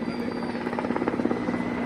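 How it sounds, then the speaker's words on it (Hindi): Mi-17 V5 helicopter flying overhead at an outdoor Border Security Force anniversary parade, its steady rotor thump and engine drone continuous and fairly loud throughout. "सीमा सुरक्षा बल का ध्वज आसमां की ऊंचाइयों पर लहराता आगे बढ़ता मी-17 V5 हेलीकॉप्टर"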